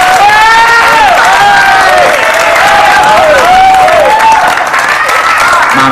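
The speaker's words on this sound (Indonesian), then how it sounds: "Tepuk tangan untuk Mas." Studio audience on an Indonesian TV talk show bursts into loud, sustained applause and cheering, a dense wash of clapping filling the room with no speech over it.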